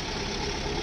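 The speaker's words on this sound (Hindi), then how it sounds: "भाई भी आ गया बाइक लेके" A motorbike engine idles close by in a steady, even drone for under a second, with no voices.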